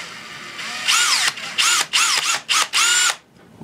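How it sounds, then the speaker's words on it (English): Close, loud power drill bursts drilling out plastic ear pieces on a Tomy Karate Robot toy: about five short whirring runs, each spinning up and cutting off, separated by brief pauses. "So I need to drill out these ear pieces."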